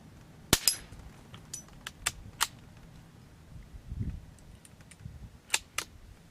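An old Remington 510 Targetmaster .22 rifle fired outdoors, giving a few sharp, fairly faint cracks spaced irregularly, with quieter handling clicks and rustling between shots and no speech.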